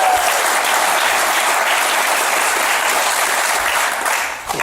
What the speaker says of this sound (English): Don't applaud. I owe her money.